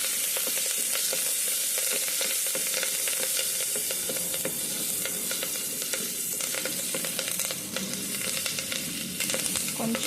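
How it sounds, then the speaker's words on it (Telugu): Ginger-garlic paste and turmeric sizzle steadily in a pan for pachipulusu, with scraping stir strokes throughout; the frying stays loud and continuous with no talk. "కలపాలి బాగా."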